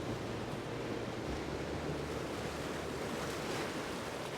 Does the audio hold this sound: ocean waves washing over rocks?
yes